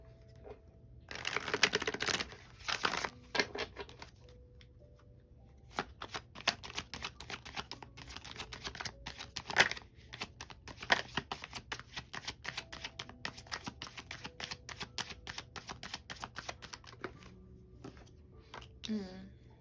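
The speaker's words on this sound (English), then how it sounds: "Let's shuffle." A deck of tarot cards is shuffled by hand, quiet crisp riffling and flicking bursts with a steady patter of card slaps and taps, close and soft, alone without talk.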